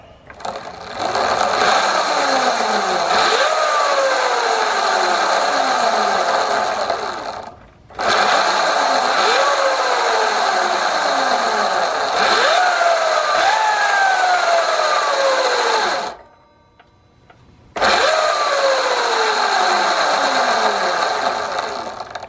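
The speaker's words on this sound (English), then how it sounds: "Okay, tighten all the bolts. Let's go run it real quick." A Sur Ron electric dirt bike runs on a freshly fitted 219 primary drive chain with re-shimmed sprocket, giving a loud, steady mechanical whir and chain whine with rising and falling pitch in three long bursts, separated by brief pauses.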